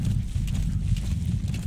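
In Metal Gear Solid 5, a horse's hooves clip-clop in a quick, steady rhythm, close and continuous, over a low rumbling game background.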